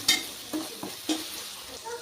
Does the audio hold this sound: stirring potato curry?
yes